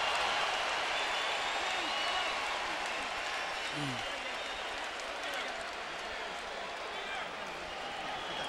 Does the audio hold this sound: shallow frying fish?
no